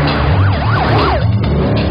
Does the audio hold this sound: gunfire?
no